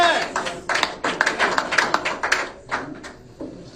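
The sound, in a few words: audience applause at press briefing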